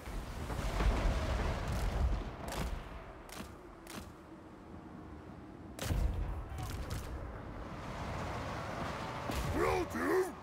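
Artillery fire in a Total War Warhammer III battle, with dwarf forces on the field: several sharp broadband blasts land amid a dense, rumbling battle din, under unit voice lines and shouted commands.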